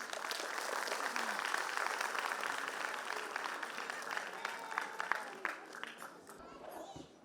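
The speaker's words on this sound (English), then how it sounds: "I request all the parents, please give them a thunderous round of applause" An audience of parents claps at a school annual function. The applause is dense and sustained across the whole clip and thins toward the end, with voices mixed in under it.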